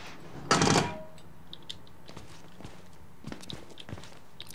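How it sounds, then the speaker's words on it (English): A door closes in the horror game Outlast with one loud, short thud near the start, followed by faint scattered footsteps and small clicks. "Close the door behind me."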